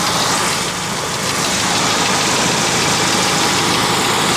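A 1.9 liter engine in a 1994 Mercury Tracer idles steadily, a loud, even broadband rumble and hum recorded close up, with no talk.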